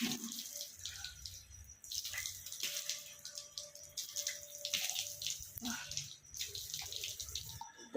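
Cold water running from a tap while a face is washed, a close splashing and trickling stream broken by pauses and cupped splashes, with low background sounds beneath.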